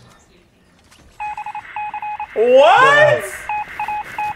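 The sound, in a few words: Morse code beeps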